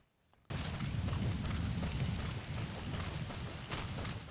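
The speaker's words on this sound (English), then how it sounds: "Hey, that rainstorm has come. Or, yeah, no, it's raining." A rainstorm in the video game Metal Gear Solid V starts abruptly after a near-silent moment, then fills the scene as a dense, steady wash of heavy rain with low rumbling underneath, no talk.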